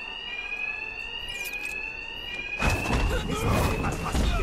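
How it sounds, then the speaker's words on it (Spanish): An alarm rings steadily during a robbery in the video game Batman: Arkham Knight, a sustained electronic tone that is soon joined by loud crashing fight sounds. "El ruido de la alarma cubrirá mis ataques."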